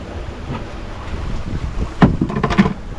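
Wind rushing past a sailboat on a broad reach, with wind blowing from the side, a steady broadband roar with gusty buffeting and a couple of louder bursts near the end.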